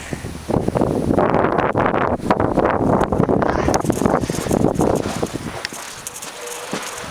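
Strong winter wind blasts against the microphone outdoors, a loud roaring buffeting in uneven gusts that eases off near the end.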